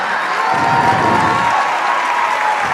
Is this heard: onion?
no